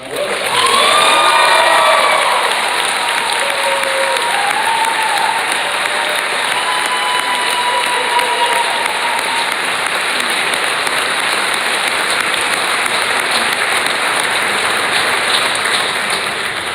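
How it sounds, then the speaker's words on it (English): An audience gives a round of applause for two people at a community gathering. Dense, steady clapping continues for the whole stretch, with a few faint whistles or cheers near the start. "Could we give a round of applause for Carrie Ann and Carlos?"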